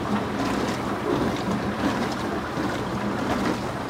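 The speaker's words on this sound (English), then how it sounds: "my dishwasher is making queen noises" A household dishwasher running, giving a steady churning wash of water sloshing with a low rumble and faint rhythmic surges, close and continuous with no talk.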